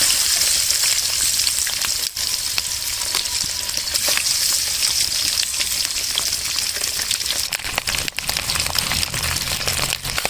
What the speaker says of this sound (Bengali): আমরা ডিম ভাজার জন্য দিয়ে দিলাম কড়ার মধ্যে